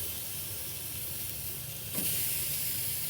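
Steaks sear on a hot Char-Griller Gravity 980 charcoal grill, giving a soft steady sizzle and hiss that swells briefly near the end.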